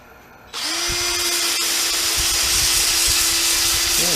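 A power sander on a turned elm wooden bowl, switching on abruptly and running at a steady, loud, continuous whine close by, with no talk.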